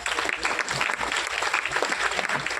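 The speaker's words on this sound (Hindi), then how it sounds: "एक बार जोरदार ताली अगेन होनी चाहिए" An indoor crowd claps enthusiastically for farmers, a dense, steady wash of applause sustained throughout without pause.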